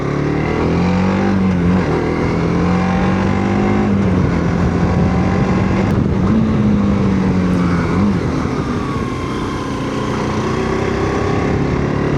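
A TVS Apache RTX 300 motorcycle being ridden, its engine a steady loud drone with a few shifts in pitch as it rolls on, wind noise throughout and no talk.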